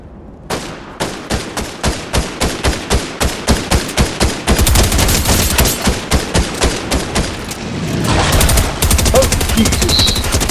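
Machine gun fire in Fortnite, starting as a rapid evenly spaced string of loud shots, then merging into a dense continuous roar of automatic fire with a brief burst of noisy clatter near the end.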